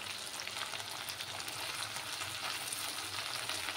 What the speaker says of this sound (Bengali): আরো কিছুক্ষণ আমি এইভাবে মানে মাছটা ভেজে নেব